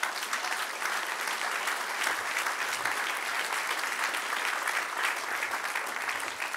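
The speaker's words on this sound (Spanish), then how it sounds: "Dele un aplauso al que reina" Steady, dense applause from a church congregation during a sermon fills the whole stretch, an even wash of many hands clapping at a constant level with no voices rising above it.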